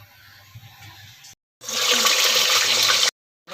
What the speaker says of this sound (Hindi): हम फुल गर्म ऑयल होएगा, धुएँ उठे होंगे, इसको हम डालेंगे।